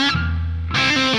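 Electric guitar played through a compact amp-modelling pedal with a touch of reverb added: a sustained chord rings and decays, then another strum rings out, played alone with no talk.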